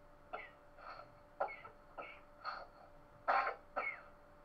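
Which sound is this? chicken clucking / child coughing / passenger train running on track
child coughing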